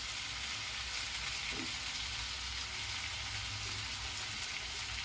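Chicken masala with spices fries in a pan with a steady, even sizzle, faint and continuous, with only occasional soft stirring sounds.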